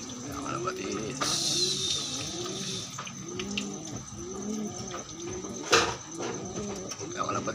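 Pigeons coo in a steady run of soft, repeated rounded calls, close by and fairly quiet, with a brief hiss and a sharp knock partway through.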